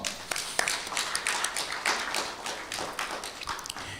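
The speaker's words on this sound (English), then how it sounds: "welcome our distinguished roundtable members with a warm round of applause" Audience applause welcomes roundtable members at a live economy discourse event: a modest crowd claps in uneven, scattered bursts for several seconds, moderately close.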